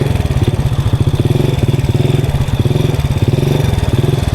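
A motorcycle engine runs close by during wheelie practice with a steady, rapid thumping pulse, holding a loud, even idle-like rhythm throughout.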